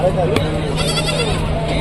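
A goat bleats close by at a village livestock market in Rajarampalli, a short wavering call under a man's speech and general market chatter.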